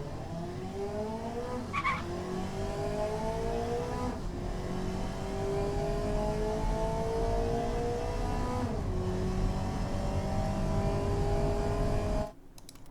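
A 1987 Marina Spark MkV four-cylinder car in the Automation game accelerates hard down a quarter mile, its engine note climbing steadily through several gear changes with a loud, continuous drone that cuts off abruptly at the end.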